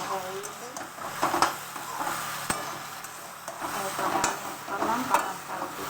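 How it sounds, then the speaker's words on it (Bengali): Eggplant frying with spices in a pan on a home stove, with a steady soft sizzle and occasional stirring scrapes throughout while someone talks over it. "দেখো ভাজা হয়ে গেছে, এটা মশলা থেকে বেগুন ভাজা হয়ে গেছে।"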